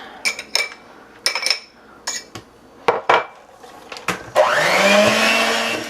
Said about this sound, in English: I'm going to mix this until everything is nicely combined.